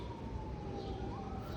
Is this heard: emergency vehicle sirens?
yes